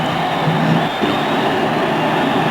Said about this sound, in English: You can almost feel the tremors of the Garden going into the rumbles of the subway below.